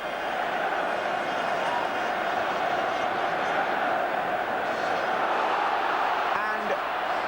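At Wembley Stadium, a huge crowd roars steadily after England's goal against Poland, a dense continuous cheer with a commentator speaking over it.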